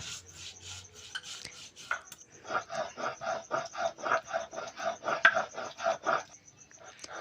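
Cumin and chili are ground into paste by hand on a grinding stone, producing rhythmic scraping strokes repeated about twice a second, close and clear, with no talk over them.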